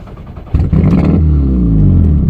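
A Jetta MK4 with a 1.8T engine, GT28 turbo and side-pipe exhaust cranks briefly, then fires up into a loud, rough revving burst. It settles into a heavy, rumbling idle close by, with no talking.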